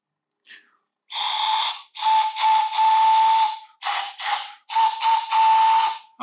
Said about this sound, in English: You have another pan flute.